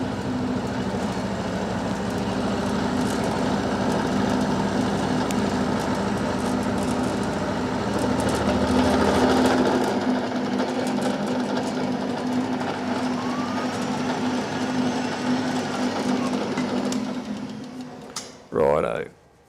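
A milling machine cuts metal in a home shed, giving a steady droning hum with a low tonal whine that runs unbroken for most of the stretch, then stops, followed by a brief squeak near the end.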